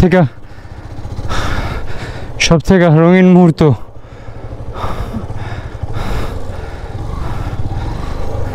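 A motorbike rides along the Marine Drive road toward the beach, its steady engine and wind rumble running beneath continuous close talking for the whole stretch.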